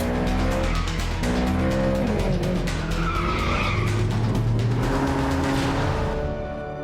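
A Ferrari California skids on a slippery road, tyres squealing loudly with a wavering screech over the roaring engine, close and sustained before easing off at the end.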